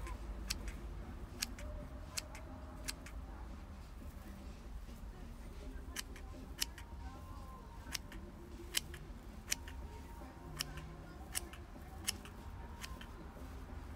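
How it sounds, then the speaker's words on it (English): Small snippers cutting craft material for a succulent pumpkin, crisp faint clicks repeating at a steady pace over a low background hum, with a voice talking occasionally. "now what I'm gonna do with my little snippers here, I'm gonna kinda cut it"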